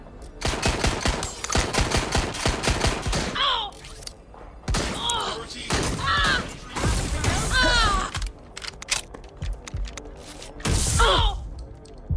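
Rapid automatic gunfire bursts and single shots in the Watch Dogs Legion video game, loud and close, with whooshes and impacts between volleys and voices calling out amid the shooting.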